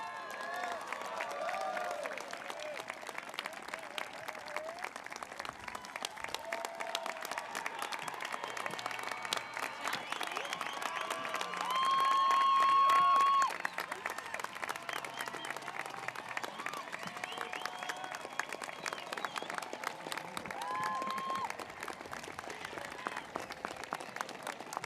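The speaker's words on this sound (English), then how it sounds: "One more big round of applause, some loud voices." A high school graduation audience for the class of 2026 claps and cheers in a large venue, dense continuous applause with whoops and shouts lasting throughout, swelling briefly midway.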